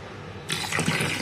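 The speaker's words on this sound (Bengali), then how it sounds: "সব একসাথে ধুয়ে নেব" Water gushes into a bowl as chopped bitter gourd and onion are washed together, a sudden close splash and rush of water starting partway through, no speech.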